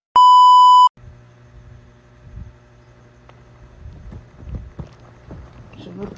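A cellphone gives a single loud, pure electronic beep lasting under a second, then a quiet stretch of low rumbling background noise with faint thumps.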